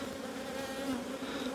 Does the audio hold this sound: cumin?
no